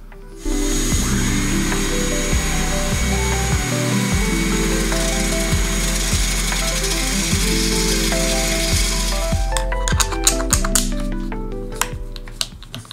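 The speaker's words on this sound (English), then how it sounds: "you make it oversized, and then you creep up on the correct size by sanding it" A power sander runs steadily with a droning whine and rhythmic grinding pulses, sanding an oversized wooden part down to a snug fit, then stops, leaving scattered clicks and taps.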